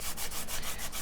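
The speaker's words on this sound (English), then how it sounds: "rubbing the sanding block over the paper, and some of it will end up with little holes" An emery board rubbed back and forth over paper like a sanding block, giving a steady, close scratchy rasp in repeated strokes about every fifth of a second.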